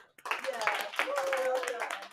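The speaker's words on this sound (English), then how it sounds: "And applause for Reverend Jill" A small congregation at a spiritual center claps for about two seconds, a dense patter of hands close by that swells quickly and holds steady, with a faint voice underneath.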